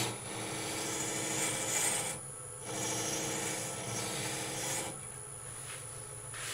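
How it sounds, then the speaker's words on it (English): Wood goblet spinning on a lathe, a steady broadband rasp of the turning workpiece that drops out briefly twice as the cut lifts off, then resumes. "I don't want to lean across the spinning lathe."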